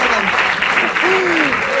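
An audience at a comic poetry show applauds in a dense, steady burst of clapping, loud and close, while a voice speaks over it.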